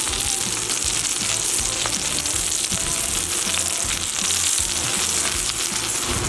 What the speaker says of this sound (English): So we're gonna let this sear away for probably 90 seconds just to form a really nice crust on this side.